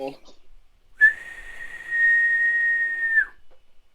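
A voice imitates a whistle with a single long, steady, clear tone held for about two seconds, ending in a short downward slide, preceded by a brief breathy sound in an otherwise quiet room.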